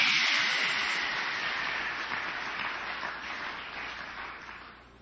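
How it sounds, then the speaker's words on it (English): A church congregation applauding together, dense sustained clapping that is loud at first and gradually fades over several seconds, with no voices. "Now let's all clap our hands."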